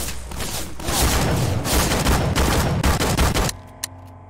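Nail gun shooting in Garry's Mod, a dense rattling stream of rapid shots and impacts that fills most of the stretch before cutting off abruptly, leaving near silence with one small click.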